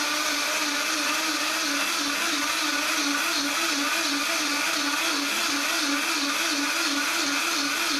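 A Vitamix Pro 750 blender running steadily at high speed, a loud, continuous whirring motor roar with a slight rhythmic pulsing and no break over the whole stretch.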